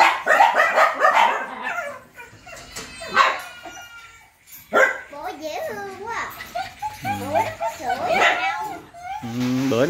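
An excited dog yips, barks and howls in rising, wavering cries, close and loud, mixed with people talking and children's voices around a small garden pet area.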